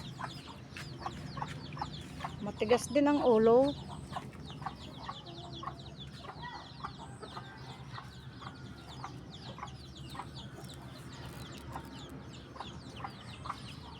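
A chicken clucks loudly up close for a moment, then the sound fades into a steady outdoor background with scattered faint ticks.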